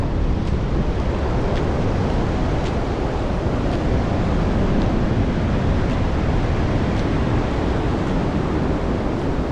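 Ocean waves washing onto a shore give a dense, constant roar of surf, loud and close, mixed with heavy wind buffeting the microphone and no voices.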